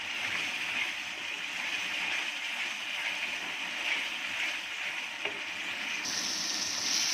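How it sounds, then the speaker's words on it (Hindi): Masala spices roast in hot oil for a fish curry, giving a steady, close hiss of frying that holds for the whole stretch with no voices. "मसाले की भुनाई अच्छे से हो तभी सालन सही बनता है"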